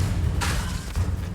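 A Confringo explosive fire spell in the game Hogwarts Legacy bursts with a broad whoosh, then a second shorter blast follows, both riding over a constant low rumble of in-game ambience.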